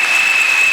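A church congregation applauds during a Sunday service, a steady wash of clapping filling the space at even loudness throughout the brief moment.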